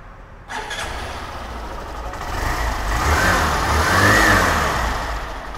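A 2021 Hero Glamour 100 Million Edition BS6 motorcycle engine starts with a sharp catch, then settles into a steady idle that swells slightly as if revved, loud and close.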